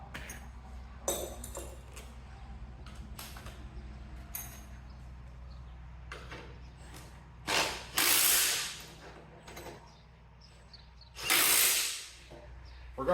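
A ratchet tightens a 3/4 fitting on a Cub Cadet 782 garden tractor, giving bursts of quick clicking strokes, close and distinct, with quiet gaps and a low hum between them.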